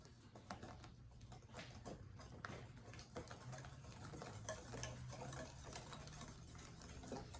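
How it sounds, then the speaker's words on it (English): Honey cake batter with two eggs being mixed, a steady low mechanical whir with rapid ticking and scraping against the bowl, continuous and close with no talking. "I'm going to start mixing."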